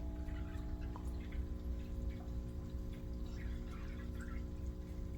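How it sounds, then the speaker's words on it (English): Water pours steadily into an aquarium tank fitted with a hygger surface-skimmer filter and spray bar, a soft continuous splashing trickle over a low electrical hum, quiet and unbroken throughout. "we need to add water to this one right here first"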